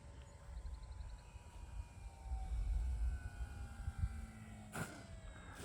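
An E-flite RJG Decathlon RC model airplane flies in to land fast with no flaps, its small electric motor a faint, wavering whine at a distance, with a sharp brief noise near the end.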